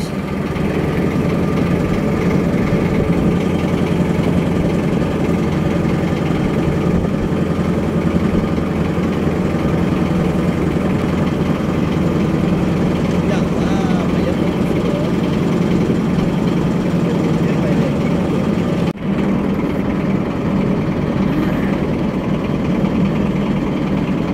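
A motor boat engine drones steadily and loudly on the river at Udhuniya, a constant low chugging hum sustained throughout, with faint voices now and then.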